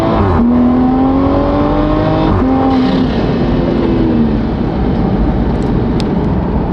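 A Toyota Supra fitted with a drag pack launches from a dead stop on an unprepped surface, its engine roaring loudly and steadily close by as the pitch climbs through the gears, with no voices.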